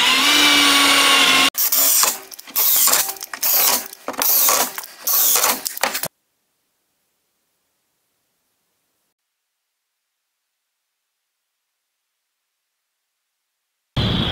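Power drill driving screws into a wooden deck gate, a series of short whirring bursts with brief pauses between them, close and fairly loud, followed by a long stretch of silence.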